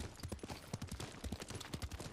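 Horse hooves clip-clop at a steady riding gait in a video game as the rider approaches Castle Shimura's gates, a fairly close, rhythmic run of hoofbeats with no talking over it.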